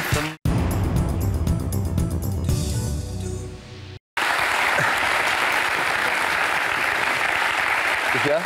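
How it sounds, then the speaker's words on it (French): Studio audience on a French talk show bursts into sustained applause, loud and steady, broken by two brief cuts, with music-like tones under the first stretch. "vous pouvez vous applaudir"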